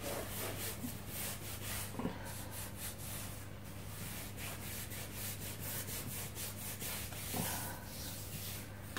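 Spatula smoothing icing around a Paw Patrol themed cake, a steady soft rubbing and scraping that continues close up with faint repeated strokes and no talk.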